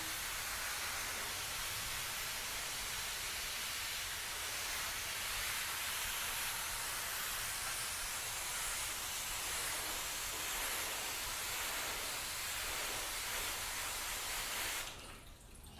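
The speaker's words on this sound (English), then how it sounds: "All right, so let's mist over this entire thing." A misting sprayer hisses steadily and close over car paint in a car-wax test, a continuous soft spray that cuts off abruptly at the end.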